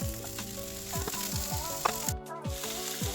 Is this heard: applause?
no